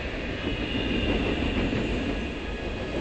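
Interior of a moving train riding on its rails, a steady loud rumbling roar with faint rhythmic rattling and a thin high whine, continuous and enveloping with no voices.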